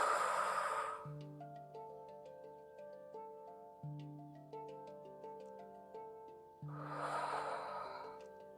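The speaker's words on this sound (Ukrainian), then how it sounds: "видих, вдих, видих" Slow, audible breaths in and out during a yoga exercise for abdominal diastasis, one long breath at the start and another near the end, over soft sustained background music.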